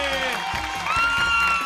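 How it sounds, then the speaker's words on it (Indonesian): A studio audience at an Indonesian TV variety show applauds for Domino, a brief wash of clapping and crowd noise mixed with music and background voices. "Kasih tepuk tangan buat Domino."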